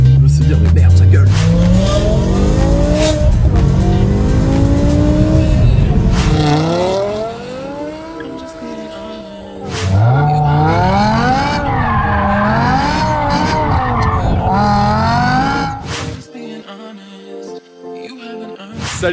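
A BMW M5 E60 with its V10 engine roars through repeated high revs and rising, falling pitch sweeps, mixed with squealing tires, loud and close, before cutting off near the end while someone talks.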